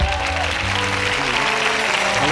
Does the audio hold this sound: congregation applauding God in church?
yes